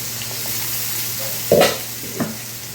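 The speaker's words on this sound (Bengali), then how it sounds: "আলুগুলোকে ভালো করে একটু লাল লাল করে ফ্রাই করতে হবে।" Potatoes fry in a pan with a continuous close sizzle, broken by two louder scraping stirs, the second shorter, and no voices.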